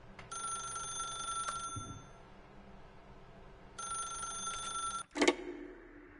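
An old-style telephone rings in a video game, two long electronic bell bursts separated by a pause, followed by a brief clatter as the handset is picked up.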